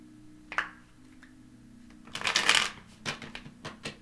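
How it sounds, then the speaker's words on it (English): Tarot cards are shuffled by hand, with a few soft taps followed by a longer riffling burst and several brief flutters, close and quiet with no talking. "So I'm going to shuffle 3 times and then I'll cut."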